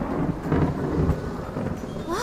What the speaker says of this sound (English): Whoa, it's pouring!